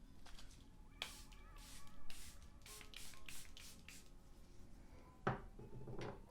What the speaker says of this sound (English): I'm going to spray my face just so that the powders can melt into my